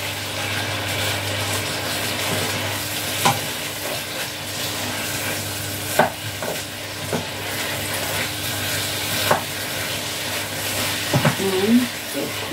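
Chicken stir-fry sizzles in a pan under a constant, close hiss, while a utensil stirs it with occasional sharp scrapes and knocks against the pan.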